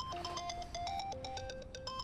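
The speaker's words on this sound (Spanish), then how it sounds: "El celular de mi mamá." A mother's mobile phone rings with a repeating electronic melody of bright, evenly spaced tones, steady and fairly clear with no voices over it.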